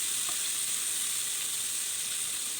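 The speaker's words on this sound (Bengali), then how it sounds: "এখন মিডিয়াম হিটে পেঁয়াজটা আমি ব্রাউন কালার করে ভেজে নেব।" Onions fry over medium heat alongside split green chilies, a dense, even hiss of sizzling oil that stays constant and fairly close for the whole stretch, with no voices.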